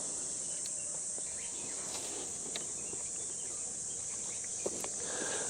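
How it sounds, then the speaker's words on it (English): Cicadas buzz faintly in a Japanese summer garden. A soft, steady insect drone runs throughout, with a few faint chirps on top and no talking. "you can hear the cicadas. They've woken up from their, 17-year sleep?"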